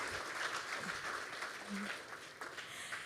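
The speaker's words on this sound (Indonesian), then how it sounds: "Kita berikan tepuk tangan yang meriah untuk kita semua." Steady, dense applause from an audience filling an auditorium at a political address by an Indonesian presidential candidate, sustained at an even level for about three seconds with a voice faintly audible underneath.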